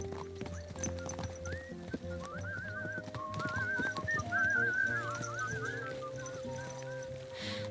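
Horse hooves clip-clop steadily in the medieval video game Kingdom Come, mixed with in-game music, a neigh and bird calls, at moderate level with no speech over them.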